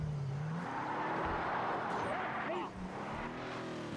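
A vehicle engine in the video game Far Cry 3 drones steadily, its pitch rising and falling as it revs and moves, with a voice talking over it.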